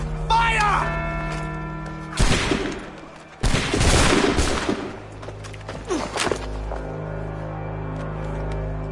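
Musket volley fired in Assassin's Creed 3, a few sharp blasts in quick succession over low musical drone, with shouted voices and orchestral score around them.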